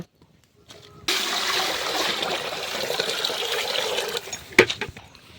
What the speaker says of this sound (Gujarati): હવે દાળને બાફવા મૂકવાની છે, એટલા માટે એમાં પાણી નાખીશું